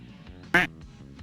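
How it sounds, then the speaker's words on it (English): One sharp, loud duck quack sound effect, triggered on a livestream, rings out over a low background murmur. "sound effect quack"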